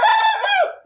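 A single chicken lets out one short, loud, close squawking call that trails off in under a second.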